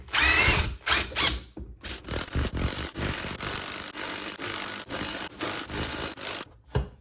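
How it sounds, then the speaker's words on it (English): A spring compressor squeezing an H&R lowering coil spring for a BMW i3, heard as close, loud bursts of ratcheting, whirring mechanical action separated by brief pauses, with a final short burst after a gap. "Now it's time to compress the spring one more time and then put the top back on."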